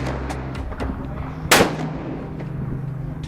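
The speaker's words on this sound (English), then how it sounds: "were able to sight in the rifles for the hunt" A single sharp rifle shot cracks out at a sheriff's office range during sighting in for a deer hunt, over a steady low outdoor rumble, with fainter distant pops around it.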